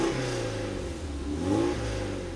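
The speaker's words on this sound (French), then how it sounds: "C'est pas un flat 6, c'est un 4 cylindres." A Porsche 968's four-cylinder engine revs up, a steady mid-pitched drone that swells and dips once, heard fairly close with no talking.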